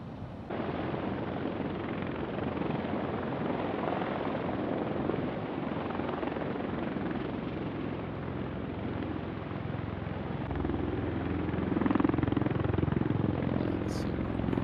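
Osprey tiltrotor aircraft of a Marine Expeditionary Unit flying on practice, a steady broadband rotor roar that holds for the whole stretch and swells slightly louder near the end.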